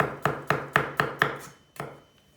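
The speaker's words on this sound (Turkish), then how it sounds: "malzemeleri çok fazla iri doğramıyorum" Carrots are chopped for a green lentil stew: six crisp knife strokes land in a quick, even rhythm, then a short pause before a final chop, close and loud.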